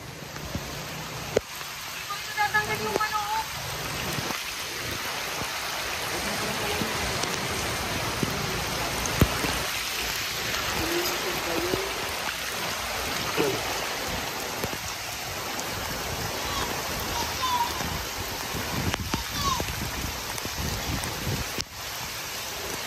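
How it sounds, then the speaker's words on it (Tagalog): Heavy typhoon rain pours steadily for a long stretch, a dense rushing hiss with scattered louder drips and knocks nearby. "sobrang lakas ng ulan, pumapasok sa loob."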